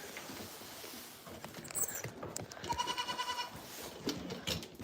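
Two dairy goats bleating nearby on a farm, a couple of short wavering calls rising over scuffling and pattering movement noise, fairly faint overall.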